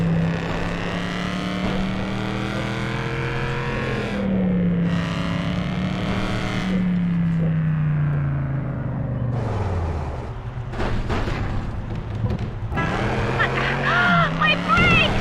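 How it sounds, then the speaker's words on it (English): The General Lee car from The Dukes of Hazzard: Return of the General Lee video game, its engine whining and shifting pitch as it races out of control, with voices talking over it throughout. "The car's out of control!"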